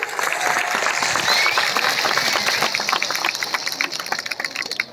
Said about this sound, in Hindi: बड़ा हाथ से ताली।